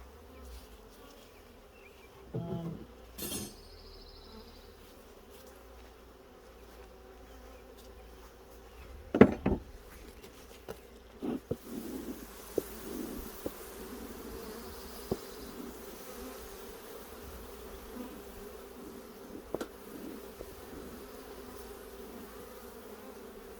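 Honeybees buzz steadily around an open hive during a beekeeper's first real inspection, a close, continuous drone broken by a few sharp handling knocks and taps.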